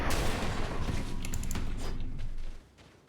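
Gunfire in the video game Greedfall: a dense, close burst of rapid, crackling shots lasting about two and a half seconds, then cutting off abruptly into quieter background.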